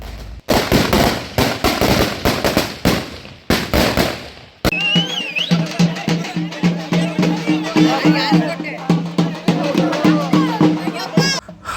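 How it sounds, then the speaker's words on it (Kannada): Firecrackers set off before a Hanuman Jayanti procession for the deity Basavanna in Singapore, loud rapid strings of sharp bursts crackling close by, with a crowd and voices mixed in. "ಹೋಗೋಕ್ಕಿಂತ ಮುಂಚೆ ಪಟಾಕಿ ಹೊಡೆದ್ವಿ"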